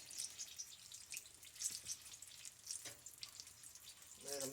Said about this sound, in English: this is why you use a slotted spoon to bring them up out of the oil